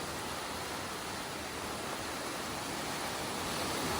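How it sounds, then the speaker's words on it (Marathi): The Bharne river at Khed runs in flood, its high-pressure water rushing beneath a bridge as an even, unbroken hiss of distant water, faint and steady throughout, with no voices. "काय पाण्यात प्रेशर आहे बघा"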